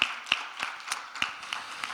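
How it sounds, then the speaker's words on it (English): Sparse, scattered hand claps at a gender equality forum in Cape Town, a handful of distinct claps spaced roughly every third of a second, fairly faint and thin rather than a full round of applause. "So let's give another round of applause,"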